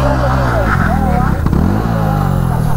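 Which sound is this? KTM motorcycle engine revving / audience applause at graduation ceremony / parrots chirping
KTM motorcycle engine revving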